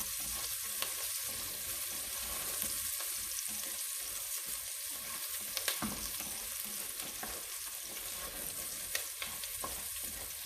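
Onions and garlic sauté in a pot for a dairy-free potato soup, a steady close sizzle broken by repeated scraping and clatter from a spoon being stirred, with no talk.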